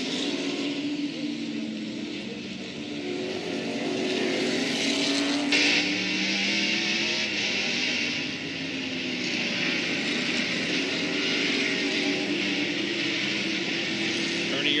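NASCAR stock cars with Ernie Irvan in the field race around a road course, engines roaring and shifting pitch as cars pass, with a race commentator talking over the din.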